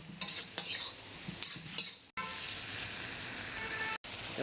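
A spoon stirs lehheti greens with salt in a frying pan, giving scraping strokes over a soft sizzle that are uneven and close up, broken by two short cuts to silence.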